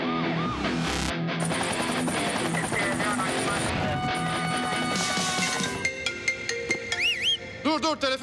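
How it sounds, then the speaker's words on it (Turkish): A phone rings amid a busy, cluttered mix of electronic tones and crashing noise, its warbling, repeated ring tones standing out more clearly toward the end. "Dur, telefon çaldı."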